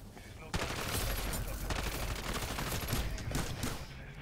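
Rapid, sustained automatic gunfire rattles without a break from a powerful gun in Call of Duty MW3 Zombies, loud and close, with faint game noise underneath.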